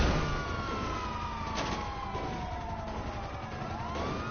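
Police car sirens in a video game sound in the background, a faint, slowly falling wail with a fresh rise near the end, set low under a steady wash of game noise and engine rumble.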